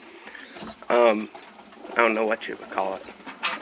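Homing pigeons coo in short bursts from a loft, fairly close, while someone talks over them.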